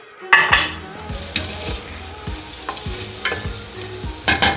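Garlic paste added to softened onions for pork ribs sizzles loudly in a hot pan, with a steady frying hiss, repeated scraping stirs and clinks of a utensil against the pan, close up.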